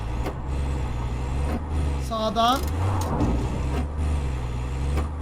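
A car driven in the video game Far Cry 5 rumbles with a steady low engine drone throughout, while someone speaks briefly over it and a short rising tonal whine cuts through midway.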